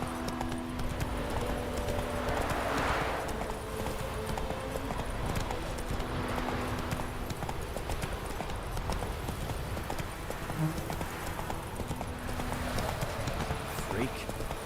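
Roach the horse galloping in a video game, steady rhythmic hoofbeats running throughout with a brief whinny, under a voice talking over the game.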